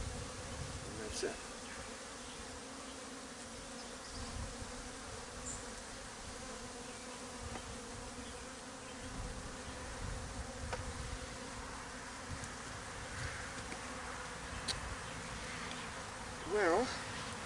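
Agitated honey bees drone around a hive under inspection, a constant mid-level hum with individual bees zipping past close by and a short louder pass near the end.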